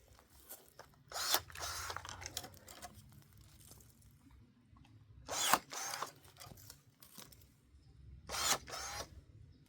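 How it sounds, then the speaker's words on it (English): A DeWalt cordless power tool cuts through thicker fruit tree branches during pruning, heard as three separate loud bursts a few seconds apart with quieter outdoor rustling in between. "we're going to use a DeWalt for this because these are bigger branches"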